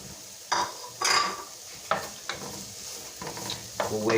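Onions frying in a pan for pizza sauce, a steady close sizzle with several louder bursts of stirring and scraping against the pan; no talking.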